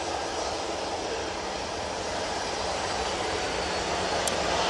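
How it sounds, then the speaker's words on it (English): A Qatar Airways Boeing 787-9 Dreamliner departs Manchester Airport, its engines a steady, loud, broadband roar that holds evenly throughout, with no voices. "that Qatar Airways 787-9 Dreamliner is going back to Doha"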